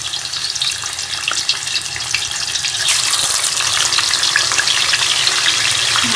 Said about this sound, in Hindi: ये ऑयल गर्म हो गया, इसके अंदर हम फिश को डाल देंगे